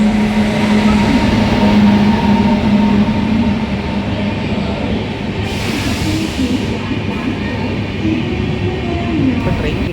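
Inside a moving train carriage, a loud steady rumble with a droning hum fills the space, with a brief rushing swell midway and faint background voices.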